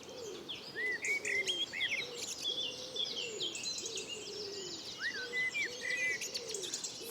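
Outdoor birdsong fills the air: bright chirps, tweets and whistled phrases repeat above a low, rhythmic cooing, all steady and moderately distant with no voices.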